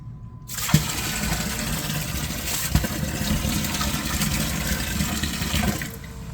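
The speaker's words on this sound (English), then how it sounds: "Yeah, it kicked in the primary pump." A sump pump kicks on after its float is triggered by added water, giving a steady rushing, gurgling flow of draining water that holds at an even level for several seconds before cutting off.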